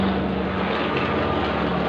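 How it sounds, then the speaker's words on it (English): A small plane flies overhead in a suburban setting, giving a steady, loud droning engine hum that fills the whole brief stretch with no talking. "Plane went over my head just then as I spoke, but only small ones"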